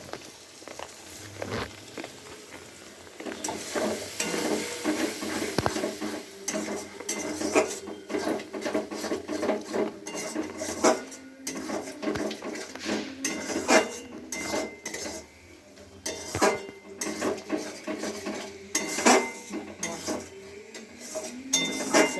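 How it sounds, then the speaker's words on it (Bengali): Soybean chunks frying with masala in a pan, heard as a long stretch of continuous stirring, scraping and metallic clinks of a spoon against the pan over a faint background sizzle. "একটুখানি কষে আসলে সয়াবিন কতক্ষণ কষতে থাকুক"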